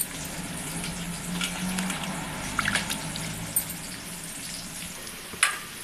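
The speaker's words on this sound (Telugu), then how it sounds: "చింతపండు తీసుకొని నానబెట్టుకోండి ఒక రెండు సార్లు బాగా కడిగి" Soaked tamarind is washed in water by hand, soft sloshing and dripping over a steady frying hiss from nearby onions, with a few sharper clinks and splashes near the end.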